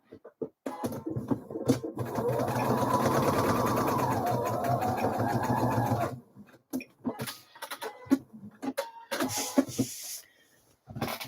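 A sewing machine stitches a blouse seam at 2 centimetres, a steady close whirring run of about four seconds, followed by shorter bursts, clicks and handling noises.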